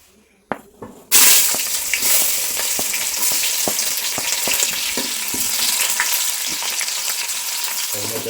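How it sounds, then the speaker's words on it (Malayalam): Shallots drop into hot oil in a pan with a sudden loud sizzle that settles into steady, close crackling and spitting and continues to the end. "എണ്ണ ചൂടായിട്ട് അതിലേക്ക് കുറച്ച് ചെറിയുള്ളി നമുക്ക് ഇട്ട് കൊടുക്കാം"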